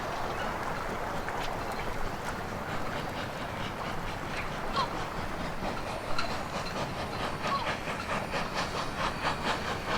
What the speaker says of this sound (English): Just on the steam train.